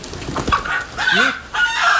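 A hen clucks in a few short, close, sharp bursts, agitated and uneven, with rustling in between.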